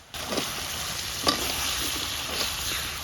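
Potatoes sizzle and fry in a pan of spice masala for an egg curry, with a steady close frying hiss, scraping stirs and a few sharper clinks of the spoon.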